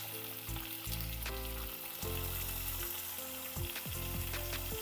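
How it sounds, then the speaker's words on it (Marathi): Chopped onion, tomato and potato sautéing in a pan for a potato sabzi, a loud continuous sizzle with faint scraping of a stirring spoon, no talk. "परतून घेऊया आपण व्यवस्थित मिक्स करूया एकत्र"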